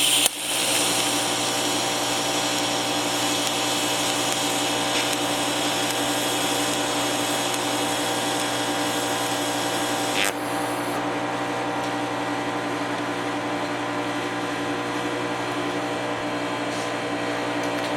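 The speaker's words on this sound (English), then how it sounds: "we just ran a short weld" Steady electrical buzz of a TIG welder running a short bead on metal, a constant hum with layered tones lasting about ten seconds, then a click as the arc stops and a quieter hum remains.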